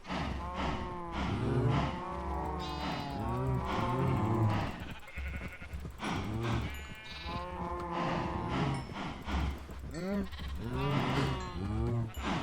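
Sheep bleat almost without pause in the video game Ancient Kingdoms 3, a dense, loud chorus of overlapping, wavering calls from a penned flock over a steady underlying drone.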